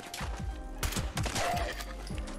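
Lever-action rifle shots in Fallout 76 against ghouls: several loud, punchy reports in quick irregular succession with booming low-end tails, close and with no talk over them.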